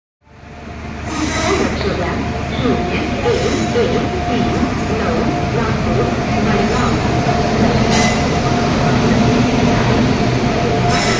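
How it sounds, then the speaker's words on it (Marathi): A Konkan Railway train rumbles along steadily between Panvel and Kankavli with a constant roar and rattling wheels, continuous and fairly loud throughout. "आता आपला हा कोकण रेल्वेचा प्रवास सुरू झालेला आहे"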